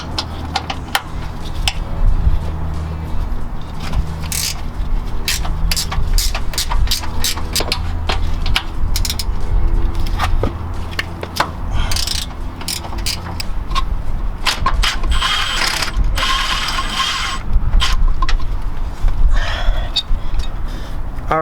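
A ratchet fitted with a 4mm socket works on the bump stop bolts of a Lexus GX470, giving steady, close, rapid clicking and metallic ticking in long runs, with occasional speech over it.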